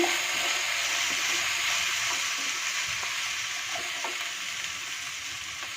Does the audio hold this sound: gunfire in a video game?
no